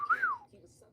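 A person whistles a short, sharp rising-then-falling tone imitating a dog whistle, close and brief, with faint background murmur.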